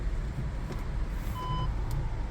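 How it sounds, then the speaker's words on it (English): Parking sensor beeps sound as a VW Golf Alltrack is put in reverse, a short steady tone over low vehicle rumble inside the car. "where it'll beep at you and show you what your sensors are doing as you go"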